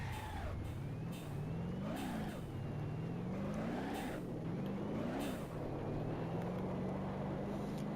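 Modified Bolide sports car with about 1000 horsepower in BeamNG.drive, its engine revving up and down repeatedly in rising and falling pitch sweeps, steady and moderately loud with no talk.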